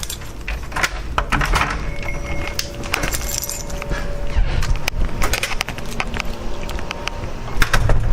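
A ring of keys jangles and clinks near the microphone throughout while someone works out which key locks a door, rattling in uneven bursts.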